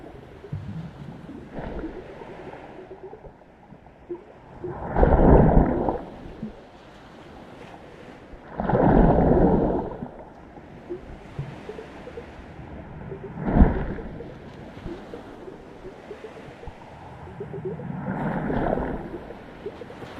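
Soft ocean waves surging at the water surface, four or five slow swells rising and falling a few seconds apart over a quiet, breezy background, with no voices.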